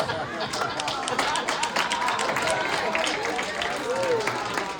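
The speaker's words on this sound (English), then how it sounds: "please stand so we can give you a round of applause" An audience at a high-level side event applauds the executive board members in steady, dense clapping that fills the room for several seconds, with faint voices mixed underneath.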